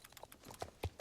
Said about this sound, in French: Et le cheval que je monte, c'est Proteus